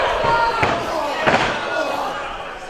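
Chop strike landing in a pro wrestling tag match, two sharp loud smacks about 0.6 seconds apart standing out over constant arena crowd noise.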